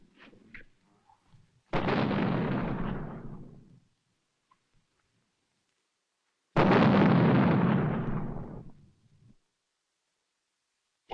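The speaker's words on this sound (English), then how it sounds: "Ain't you never heard a cannon before?" Two heavy cannon blasts from a Western film, each a sudden loud boom rolling out into a long decaying rumble for about two seconds, separated by near silence.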